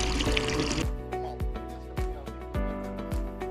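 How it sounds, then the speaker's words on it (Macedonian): Village fountain of spring water drawn from 90 metres deep: a continuous murmuring gush at first, then a trickling flow with repeated plopping drops, close and moderately loud. "жуборот на чешмата со жива вода, за која што ни рече дека излегува од 90 метри длабочина"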